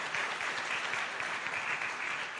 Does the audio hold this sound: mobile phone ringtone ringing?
no